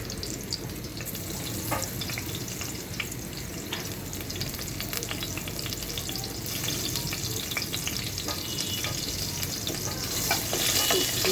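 Dried chili and bay leaf fry in hot olive oil, giving a continuous close crackling sizzle that swells slightly toward the end, with occasional stirring scrapes.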